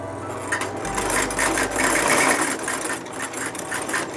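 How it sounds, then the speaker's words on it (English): A homemade machine built from an old sewing machine and clock parts runs with a rapid, steady mechanical chatter and vibration, close and continuous without talk. "This thing is made out of an old sewing machine and a clock."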